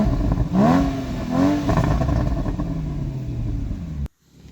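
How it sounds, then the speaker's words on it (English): A 2016 Porsche Boxster Spyder engine revs hard with rising and falling pitch, loud and close, rumbling on for several seconds before cutting off abruptly. "Run up your engine."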